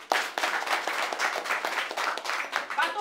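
Applause rises from a group at a Haitian Vodou Kanzo and baptism ceremony, many hands clapping in a dense patter with louder individual claps, voices mixed in underneath.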